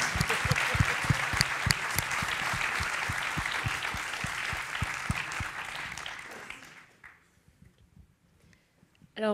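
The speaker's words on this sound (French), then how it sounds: "Il faut applaudir plus pour l'impro, quand même." An audience applauds an improvisation performance at an ESSEC round table on urban cultures. A close, crisp clapping rhythm sits over a broad crowd wash, fading out after several seconds into near silence with faint sounds at the end.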